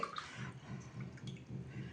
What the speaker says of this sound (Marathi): हे बघा, 2 ग्लास मी पाणी घालते आहे.